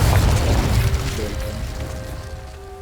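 A Confringo spell explodes in Hogwarts Legacy, a loud deep boom with rumbling low end that slowly decays, with faint game sound effects ringing underneath.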